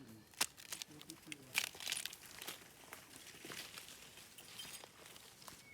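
A plastic bag crinkling as peeled wild bamboo shoots are packed into it, several sharp crackling bursts early on, then quieter rustles, with someone talking faintly.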